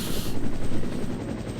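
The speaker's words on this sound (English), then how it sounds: "Brad crashes his helicopter." A helicopter going down in the Resident Evil video game, with loud, steady rotor and engine roar and a hissing burst at the start, all without a break and with no talk over it.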